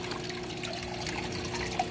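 Water is emptied out of an outdoor tub, giving a steady, close, low-level trickling and pouring with no talk.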